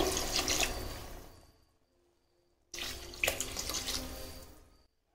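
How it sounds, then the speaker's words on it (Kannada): Water pours into two glasses of rice for a chicken biryani in two long, close, hissing streams separated by a short pause. "ಎರಡು ಗ್ಲಾಸ್ ಅಕ್ಕಿಗೆ 4 ಗ್ಲಾಸ್ ನೀರು ಹಾಕೋಬೇಕು."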